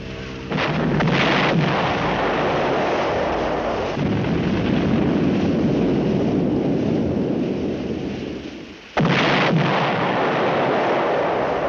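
Submarine torpedo launch sound effect from a 1958 black-and-white naval war film: a heavy whooshing blast with a rumbling rush that sustains for several seconds, drops off briefly, then surges again.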